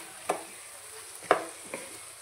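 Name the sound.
drumstick pieces stirred into frying onions in a pan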